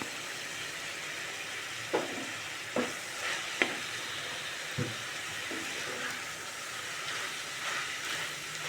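Curry leaves sizzle and crackle in hot oil while being fried for coriander mint chutney, a steady hissing fry broken by several sharp pops and stirring scrapes, close and alone.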